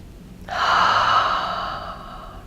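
A single long breath during guided meditation, a sudden airy onset that swells and then slowly fades over about two seconds, close and fairly loud, with no words.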